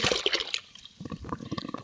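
Water from buckets is poured into a household well and splashes steadily at close range, with a brief lull midway before the pouring resumes.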